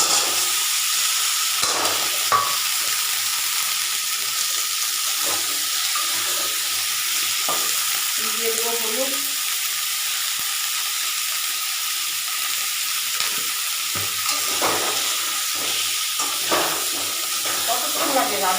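Cauliflower and potato pieces fry in a pan with tomato, giving a steady, even sizzle with occasional soft clinks throughout.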